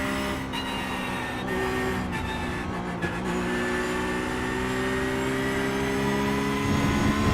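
Porsche 911 GT3 R race car engine in the iRacing sim, a steady sustained drone with layered engine harmonics holding through and rising slightly near the end, alone with no talk.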